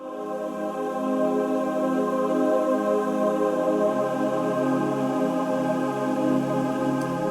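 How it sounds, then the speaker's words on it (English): Sustained, layered sampled choir voices hold chords together, washed in heavy reverb that makes them sound big and distant, with no talking. "I really wanted to add some big reverbed choirs."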